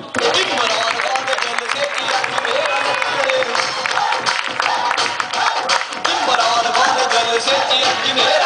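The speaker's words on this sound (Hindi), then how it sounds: "इनके लिए तालियां।" Continuous crowd applause and cheering at a school speech event, dense and steady throughout with voices mixed into the noise.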